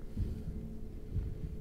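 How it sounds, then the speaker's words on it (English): A slow, low heartbeat throbs in the horror video game Bendy and the Ink Machine, two heavy beats about a second apart over a steady dark hum, with no talking. "the heartbeat is scaring the shit out of me"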